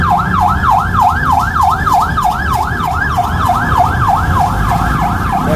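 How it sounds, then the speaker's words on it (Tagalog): A wailing ambulance siren rises and falls in a steady, fast repeating pattern, loud and continuous over low street traffic rumble. "Emergency, ambulansya."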